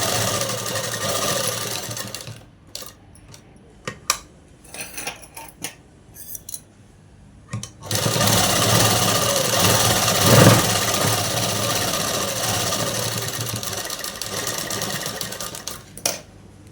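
A sewing machine stitching dress cloth runs in short stop-start bursts, then settles into a long continuous mechanical whir with a steady rapid rattle, close and loud with no voices.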